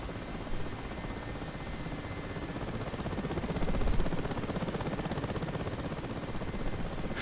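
Mi-8 Hip helicopter in DCS World, a steady dense rotor and turbine roar that fills the whole clip at an even, close level with a slight swell near the middle.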